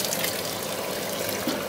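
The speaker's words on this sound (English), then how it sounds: "I'm going to add a little more water." Water pours steadily into a pot for rendering beeswax, a continuous close splashing gush with no talking over it.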